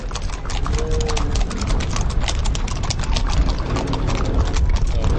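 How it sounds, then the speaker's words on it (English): Ponies and horses clip-clopping along the street in a 2009 Martin Luther King Jr. Day parade, a dense, loud, steady patter of many hooves on pavement over crowd rumble. "So we've got some little ones riding the little ponies."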